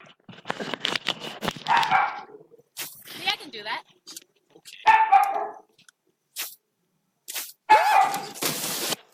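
A dog barks in several short bursts between people talking nearby, with excited voices dominating the stretch and the barks fairly loud and close.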